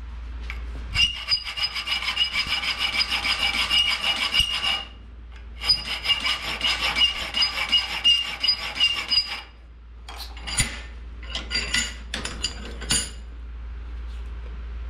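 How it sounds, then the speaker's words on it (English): A steel hand file rasps across a hardened, quenched hatchet bit in long, steady back-and-forth strokes, two sustained runs of scraping followed by shorter, choppier strokes with metallic clinks, loud and close. "I pulled out my trusty file, and I did a little bit of filing, so let me show you what happened."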